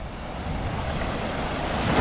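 Ocean waves wash onto a beach on a Venezuelan island, a close, loud, continuous rushing surf with wind noise that swells toward the end.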